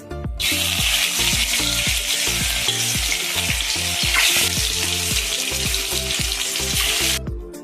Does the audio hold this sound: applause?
no